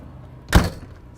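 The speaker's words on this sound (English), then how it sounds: "I'm going to close that door so we can hear the difference" A single solid thunk as the door of a 2019 Thor Freedom Elite 26HE motorhome swings shut, short and close, with quiet room tone before and after.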